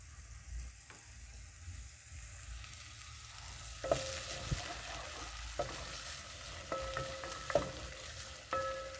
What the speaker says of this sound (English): Add in our onions, cook them for some time